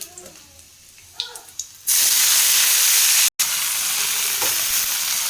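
A loud, steady sizzle erupts suddenly as mustard greens are added to hot oil with fried garlic, after a few quiet clinks and taps, then continues as a strong hiss with a brief break.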